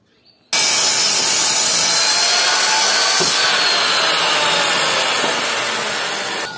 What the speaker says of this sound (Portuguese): Aqui eu cortei uma tábua